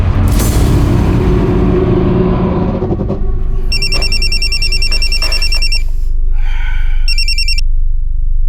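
A phone rings in repeated bursts of electronic trilling tones, one long ring and then a shorter one a few seconds later, over a heavy low rumble.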